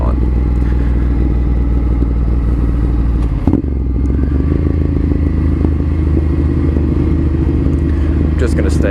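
A Ducati Monster 796 motorcycle accelerates onto a highway. Its engine drones steadily and loudly throughout with heavy wind rumble, and a voice is briefly heard over it.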